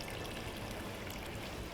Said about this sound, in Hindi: थोड़ा सा पानी ऐड कर दिया हमने इसमें